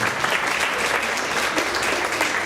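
An audience claps together in a steady, dense wash of applause, sustained at an even level throughout with no pauses.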